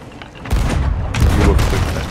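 Gunfire in a video game erupts as a loud, dense volley of overlapping shots, with a brief lull before a second heavy burst that carries to the end.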